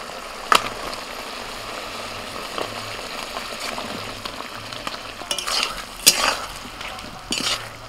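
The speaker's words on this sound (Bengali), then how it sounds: "মশলার সাথে আলুটা কষিয়ে নিয়েছি" Fried potatoes being stirred into a spice paste of turmeric, cumin and Kashmiri chilli in a pan, with a continuous close sizzle and frying crackle broken by spatula scrapes and clinks against the pan.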